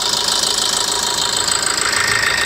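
A Maruti Ertiga's 1.3-litre Suzuki DDiS diesel engine, with 66,000 km on it, idles with the bonnet open, giving a loud, steady, close-up clatter and hum with no voices over it.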